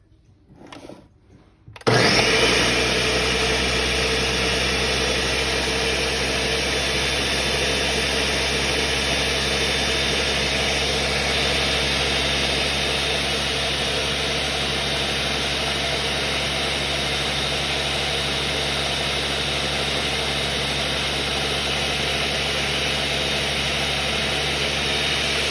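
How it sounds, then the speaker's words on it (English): A blender blending sea moss switches on abruptly after a brief quiet moment and runs at a steady, loud, high-pitched whir for the rest of the clip. "depending on your blender will be like how long you might have to let it blend."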